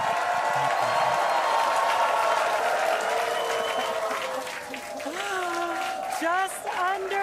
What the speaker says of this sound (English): You had to make them cheer.